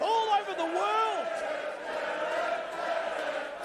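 A wrestling crowd at a Pro Wrestling Australia cage event cheers and whoops in support of a wrestler, a broad roar that swells early with sharp rising yells, then settles into a sustained hum with a voice talking over it.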